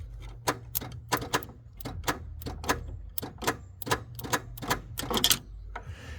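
A camper's new starter motor gives rapid, irregular mechanical clicks in quick bursts over a low steady hum, sharp and close, with no voices, and the engine does not crank.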